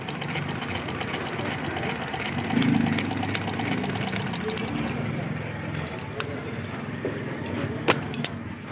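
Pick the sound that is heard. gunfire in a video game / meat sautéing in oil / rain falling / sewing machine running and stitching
sewing machine running and stitching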